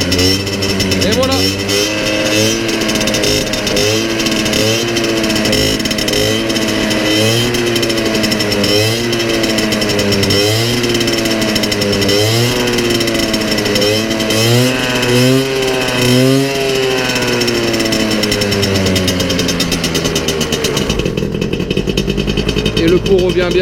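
A small MBK 51 Club moped engine runs loud and close throughout, revving up and down in repeated surges and bogging as the throttle opens, with a person talking over it.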